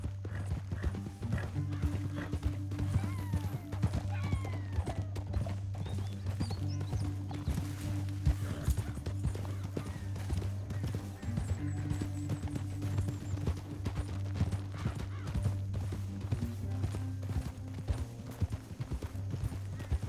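Galloping horse hooves in Red Dead Redemption 2 clatter in a fast, steady rhythm over a low droning hum, with occasional whinnies and mechanical clanks mixed in.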